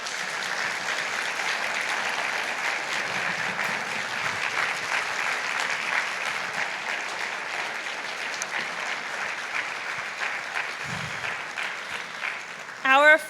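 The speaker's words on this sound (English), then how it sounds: "Please give them a round of applause." Audience at a senior high school orchestra concert applauding steadily, a dense, even clatter of many hands sustained throughout before a few louder bumps at the very end.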